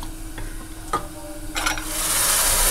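Pan of sizzling ground masala and onion stirred with a couple of sharp scrapes, then a rising hiss as water goes in, growing louder and steadier over the last second.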